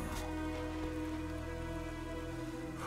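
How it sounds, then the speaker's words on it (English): In-game rain from Sonic Frontiers falling steadily and evenly for a few seconds, a soft wide hiss with no voices. "I mean, the rain effect isn't great"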